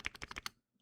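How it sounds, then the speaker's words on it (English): A mechanical keyboard spacebar is pressed several times in a quick burst of close, thocky clacks, then stops. "Spacebar."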